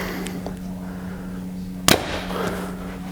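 A Prime Black 5 compound bow set at 70 pounds with a 30-inch draw fires a single arrow through a chronograph, giving one sharp, loud snap against a quiet background with a steady hum.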